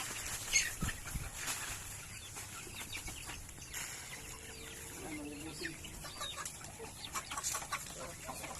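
Quiet farmyard ambience with native chickens clucking softly here and there as they eat water spinach, scattered pecking and rustling sounds, fairly faint and distant.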